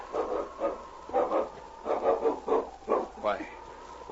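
A dog named King barks repeatedly in an old-time radio adventure set on a Yukon trail, several short barks in rhythmic bursts, mixed with voices and drama sound effects.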